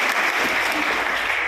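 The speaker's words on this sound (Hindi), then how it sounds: "जोरदार ताली के साथ स्वागत करते हैं।" Loud, steady applause from a crowd welcoming newly selected firemen, a continuous wash of clapping throughout with no pause.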